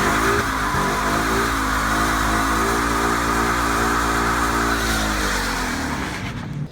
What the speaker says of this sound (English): It grips the front brakes and makes you do awesome burnouts